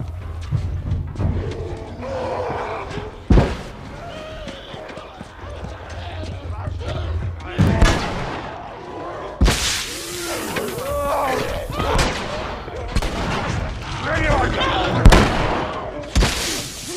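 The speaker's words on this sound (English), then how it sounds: "Shotgun." Shotgun blasts in The Last of Us high school escape, sharp broadband bursts at irregular intervals amid frantic gameplay sounds, with a player talking and exclaiming throughout.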